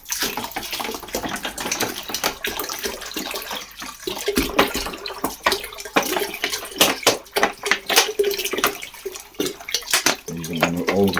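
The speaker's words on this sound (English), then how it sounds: "we're going to put 8 litres of cold water and just top them up" Cold purified water poured into a bucket, topped up to about eight litres, a loud continuous splashing gush with irregular bursts and sloshing as the pour shifts.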